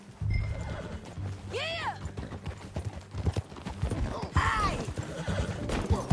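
Clip-clopping horse hooves sound close at hand in a video game, with two shrill neighs rising above them as a rider shouts briefly and other voices talk.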